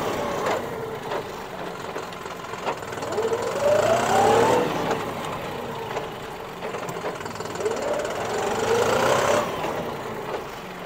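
A John Deere 5405 CRDI 63 hp 4WD tractor engine runs steadily with a rotavator attached, its drone rising and falling twice as it works, with a rattling mechanical hum throughout.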